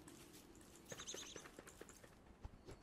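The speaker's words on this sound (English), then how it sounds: "You found the tall bird?" A tallbird moving around in the video game Don't Starve Together, a series of light, evenly spaced footstep taps mixed with short chirpy clicks over a soft game ambience.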